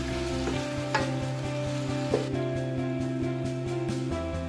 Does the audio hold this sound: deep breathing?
no